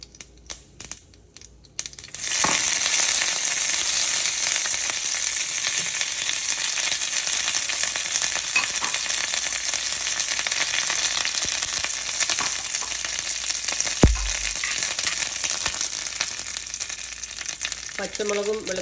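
Curry leaves hit hot coconut oil in a pan that already holds popped mustard seeds, setting off a sudden burst of sizzling. A loud, steady, close frying hiss then carries on to the end.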